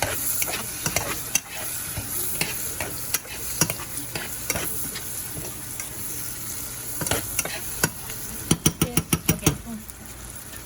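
A spoon stirs a sambar mixture in a pot, giving steady scraping and sloshing with faint sizzling underneath, and a quick run of sharper clinks near the end, close up and with no talking.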